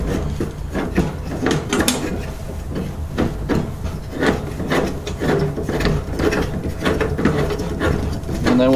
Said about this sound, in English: So go ahead and screw this in here.